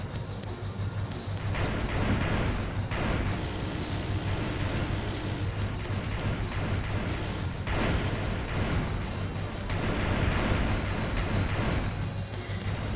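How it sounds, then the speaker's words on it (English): Mortar explosions in Ravenfield, seen from an AC-130 gunship: a continuous roar of booming blasts that swell and overlap over a steady low engine drone, fairly loud and without voices. "Let the mortars do the work."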